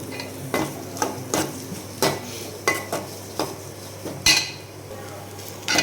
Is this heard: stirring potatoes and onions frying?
yes